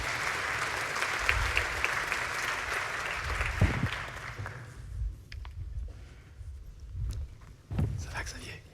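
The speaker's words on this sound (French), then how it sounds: "Vous pouvez les applaudir ?" A conference audience applauds two guest speakers, a dense, steady clatter of many hands filling the room for about four seconds before thinning out as a voice begins talking over the last scattered claps.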